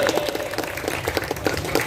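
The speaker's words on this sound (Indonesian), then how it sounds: "Tepuk tangan buat Bang Haji Oding" A crowd at a Ramadan community gathering claps for a Betawi elder, a short burst of moderately loud, uneven applause with sharp individual hand claps standing out.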